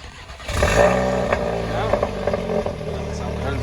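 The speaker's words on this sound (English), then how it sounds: "And exhaust leak. Definitely an exhaust leak." A 2020 Audi A3 engine with an exhaust leak idles and revs roughly with a raspy, puffing exhaust note, while a person talks over it close by.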